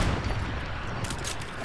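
An RPG rocket launcher firing in a video game gives a heavy, continuous boom and rumble, with a sharper burst of blast noise in the second half; nobody talks.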